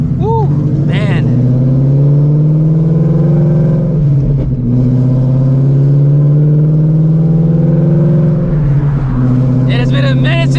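Supercharged ESS G3R Ford Shelby GT350 V8 on the road, its loud, steady engine drone holding strong from start to finish, dipping briefly around the middle as revs shift, with bursts of exhaust crackle near the start and end.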